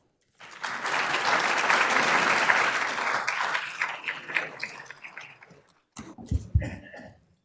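Audience applause welcoming a speaker at a health politics lecture, a sustained burst of clapping from a full room that swells, holds steady, then thins into scattered claps and a few coughs.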